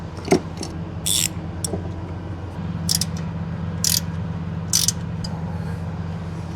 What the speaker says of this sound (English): undo some bolts